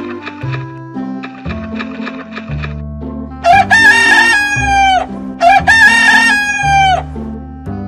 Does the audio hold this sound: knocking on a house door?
no